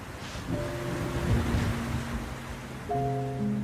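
Heavy rain gives a steady broadband wash under sustained musical tones, with low rumbling swells that fit thunder, while the rain keeps up throughout.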